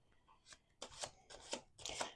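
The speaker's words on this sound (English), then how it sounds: "Let's do one more shuffle." Tarot cards are shuffled by hand at a table, with several crisp riffling bursts in an uneven rhythm and short pauses between them, close and fairly quiet.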